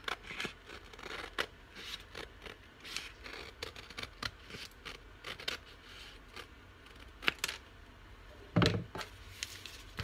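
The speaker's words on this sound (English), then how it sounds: "I need smaller scissors to get in here." Scissors snip through paper scraps in a series of irregular, close, crisp cuts, with one louder thunk near the end.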